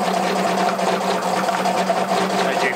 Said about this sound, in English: As you can hear, we're already getting chatter.